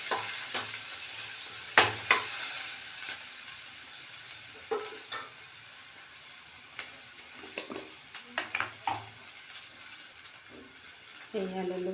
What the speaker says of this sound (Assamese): পিঁয়াজখিনি ৰঙচুৱা হোৱালৈকে ভাজি ল'ম।